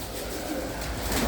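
Pet pigeons coo in a loft, a soft, continuous murmur of several birds close by, with no talk over them.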